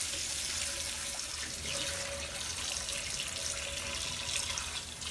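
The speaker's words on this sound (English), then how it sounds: "I'm going to get the water as hot as I can stand it" Hot tap water pours steadily into a sink while a cast iron skillet is washed, a continuous close hiss with faint splashing and no talking.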